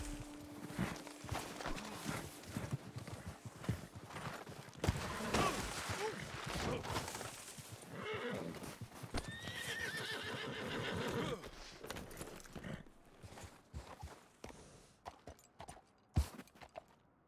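Horse in the video game Red Dead Online neighing loudly several times, with clip-clopping hooves and footsteps running through, close and prominent.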